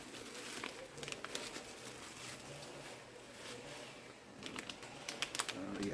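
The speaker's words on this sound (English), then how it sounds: "Yes, it is a Ziploc bag." A Ziploc plastic bag is handled during the unboxing of a shortwave loop antenna, giving soft, close, intermittent crinkles and rustles at low volume with no talk.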